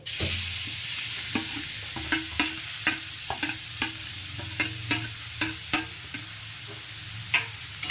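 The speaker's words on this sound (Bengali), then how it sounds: "দেখুন বিটরুটটাকে দিয়ে দিয়েছি এবার এটাকে এর সঙ্গে একটু ভাজা ভাজা করে নেবো" Beetroot stir-fries in a pan of hot oil with bay leaf, giving a steady close sizzle punctuated by regular spatula taps and scrapes about every half second.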